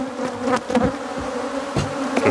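Killer bees buzz loudly and close, a dense droning hum with several sharp swells as individual insects sweep past the microphone, continuous throughout with no talking.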